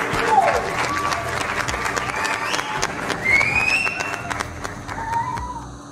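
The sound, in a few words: round of applause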